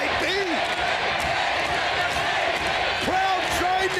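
Arena crowd at a wrestling Ultimate X match roars steadily throughout, a dense sustained cheer with shouted voices rising above it, loud and close, with a commentator's voice talking over the noise.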